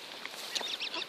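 Several ducks at a park pond give short, bright honking quacks in quick bursts, fairly close by, over a steady outdoor hiss with no talking.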